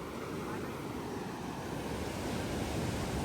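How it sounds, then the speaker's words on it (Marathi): Big ocean waves roll onto a Konkan beach at Ganpatipule in a steady, loud wash of surf, with wind buffeting the microphone across the whole stretch. "भाई खतरनाक इकडं लाटा लयले मोठे आहेत डायरेक्ट."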